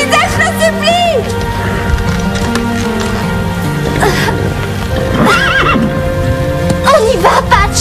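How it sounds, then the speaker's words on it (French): A cartoon horse whinnies repeatedly and clip-clops along at a gallop, the neighs rising and falling over steady hoofbeats and a music bed throughout. "Tu dois galoper."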